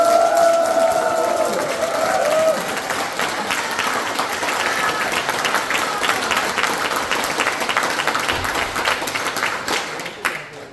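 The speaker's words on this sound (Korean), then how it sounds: "이때까지 박수 중에서 가장 큰 박수 부탁드립니다" Sustained applause from an audience at an anniversary event in a National Assembly members' office building meeting room, steady and dense for about ten seconds, with some cheering mixed in and a brief tonal voice or sound at the start.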